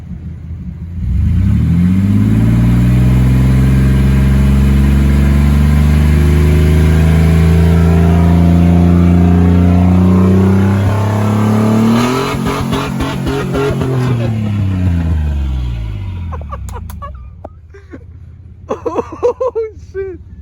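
A 1996 Chevy S10 fitted with a Cherry Bomb glasspack muffler revs up slowly through a long, loud climbing exhaust drone, holds high, then drops back to idle, with brief voices near the end.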